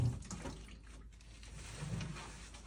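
Water running from a sink tap in a care setting, a steady soft splashing stream that continues at low volume through the short moment, with no voices.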